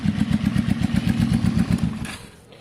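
A loud Kawasaki cafe racer motorcycle barks through its exhaust up close, a fast rhythmic chugging that drops away at the end.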